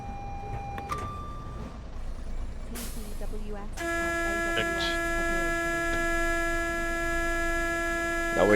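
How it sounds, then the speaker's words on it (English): Cab safety system alarms in Train Sim World on the West Coast Main Line between Preston and Carlisle: a steady tone gives way to a sharp click, then a loud, sustained electronic warning buzz sounds over the low engine-room hum and rumble. "Now we can hear the different sounds of the different safety systems."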